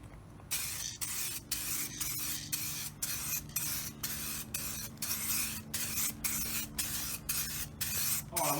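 Coating sprayed onto a raw aluminum wheel outdoors on a hot day, a series of short hissing aerosol bursts in a regular rhythm with brief gaps between, close and fairly quiet against a low background hum.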